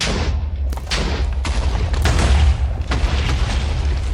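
Repeated TNT blasts in Minecraft while mining netherite, with roughly 600 blocks of TNT set off: a rapid chain of loud, close booms over a continuous deep rumble, with no talking.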